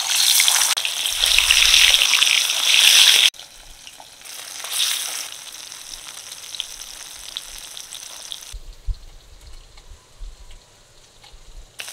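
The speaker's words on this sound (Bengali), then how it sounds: "তেল গরম হয়ে গেছে, এবার লবণ হলুদ মাখিয়ে রাখা মাছগুলো দিয়ে দিচ্ছি" Salted, turmeric-coated bata fish fry in hot mustard oil in a kadai, giving a loud, steady sizzle that drops to a quieter crackle partway through, then a softer hiss with low thumps near the end.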